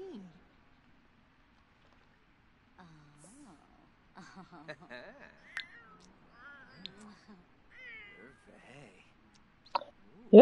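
A cat meows in The Sims video game, a few short game-style mews spread through the clip amid soft game sounds and a voice speaking over it.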